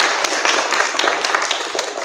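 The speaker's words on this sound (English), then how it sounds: "Can we have a round of applause for our judges?" Audience giving a round of applause for the judges at a speech contest, dense continuous clapping with sharp individual claps standing out, fairly loud and close, no talk over it.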